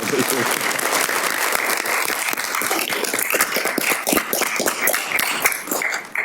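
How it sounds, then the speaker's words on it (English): A room full of people applauds at a town council meeting in Clayton, a thick wash of many hands clapping at once, with sharp individual claps standing out and faint voices mixed beneath. "I think we could give her a round of applause"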